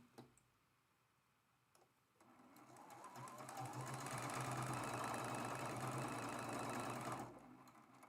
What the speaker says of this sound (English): You can just move from corner to corner and sew each line.